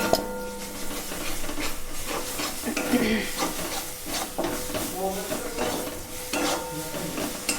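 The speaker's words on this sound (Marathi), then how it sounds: "अतिशय छान पद्धतीनं बघा मसाले परतले जात आहेत" Onion-tomato paste and spices for a village-style chicken masala sautéing in a pan, with steady close sizzling and repeated scraping and stirring clinks of a spoon against the pan throughout.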